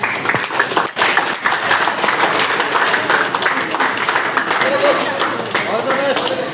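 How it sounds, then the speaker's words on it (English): Boys clap for their parents in a sustained burst of group applause, close and steady, with voices talking and calling out over it. "clap for your parents"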